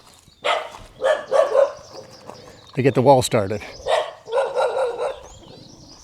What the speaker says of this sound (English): I've got a dog barking behind me